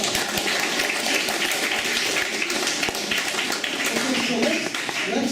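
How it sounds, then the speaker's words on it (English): Audience applause at a campus anti-bullying talk, a dense steady patter of many hands clapping that fills the whole stretch at fairly loud, even level. "Let's get around to applause."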